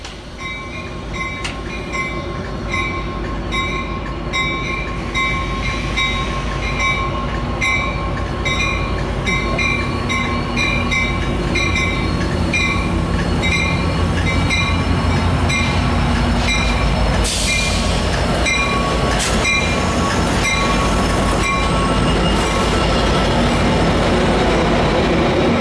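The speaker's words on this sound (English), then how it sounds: "a Metrolink train decided to take center stage instead" A Metrolink commuter train hauled by an F59PH diesel locomotive rolls past loudly and steadily at Oceanside, with rumbling wheels, tonal squeals and sharp clanks from the passing cars throughout.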